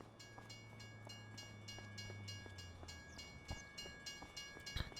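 Train rolling past in the farming video game Farming Simulator 25, a faint steady rumble with rhythmic rail clicks and a low horn-like tone for the first few seconds.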